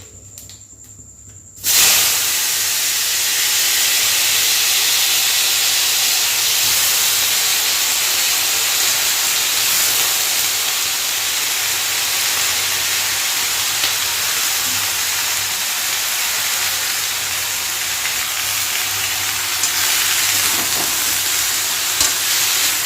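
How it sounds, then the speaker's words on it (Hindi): Vegetables sizzle steadily in hot tempering oil, a loud continuous hiss that starts abruptly after a brief quiet moment and holds without pause. "किचन में आते आते मैंने छौंक दिया है सब्ज़ी।"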